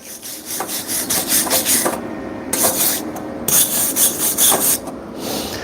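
A brush scrubs spatter off a flux-core weld in steady, close, gritty strokes that repeat in short rhythmic passes, with no voices.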